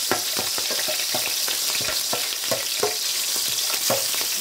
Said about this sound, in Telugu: నూనె వేగిపోయింది, పచ్చిమిరపకాయలు వేసుకుందాం.